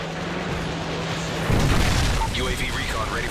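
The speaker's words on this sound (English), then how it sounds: "Friendly Predator missile inbound." A Predator missile strike in Call of Duty: Modern Warfare 3 online free-for-all play lands as a loud, deep boom about halfway through, with a rumbling tail. A low game hum runs beforehand, and brief electronic game tones follow.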